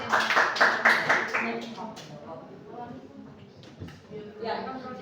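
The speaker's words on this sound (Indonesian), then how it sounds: "Tepuk tangan." Several separate hand claps ring out at the start in a short burst from teachers at a school dissemination session, then fade under talking voices.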